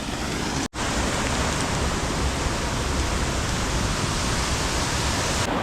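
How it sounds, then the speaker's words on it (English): A mountain waterfall in New Zealand roars as a dense, steady rush of falling water, loud and close, broken only by a split-second dropout near the start. "There's waterfalls all the way up"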